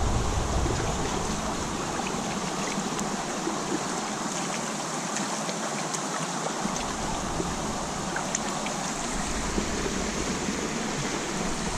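Steady broadband rush of water moving through an irrigation canal, continuous and fairly loud with no breaks, heard alone without voices.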